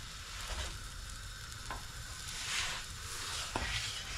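Food frying in a pan, a steady close sizzle and crackle of oil with occasional soft scrapes and small pops, heard alone without talk.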